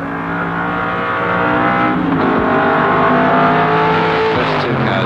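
Improved production touring cars racing past on a wet track at Warwick Farm in 1973, a loud continuous engine roar that builds and sustains, with revving and a faint tire squeal near the end.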